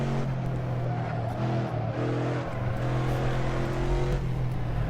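A car engine drones and revs steadily as it drives around a track in the racing game Assetto Corsa, loud and close with shifting pitch and no talking.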